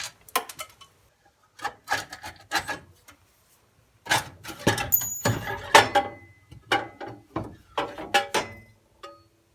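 An unbolted tubular transmission crossmember for a 700R4 slides out from under a vehicle in short bursts of metallic scraping, clunking and rubbing, close and fairly loud, separated by brief pauses.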